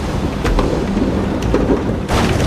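Thunderstorm in the game A Fisherman's Tale: steady loud rain roar with low rolling thunder rumbles, a couple of brief crackling bursts and a fresh surge of downpour near the end, with no voices.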